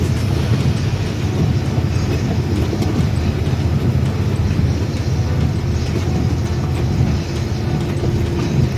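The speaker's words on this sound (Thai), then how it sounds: "ฝนตกหนักจริงครับ" A dense, steady roar of heavy rain, loud and continuous, with a low rumbling undertone throughout.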